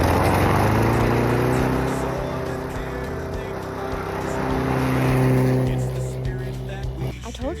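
A small gasoline engine fires after gasoline is poured onto its carburetor, then runs with a loud, rough steady drone that rises and falls slightly, close to the microphone.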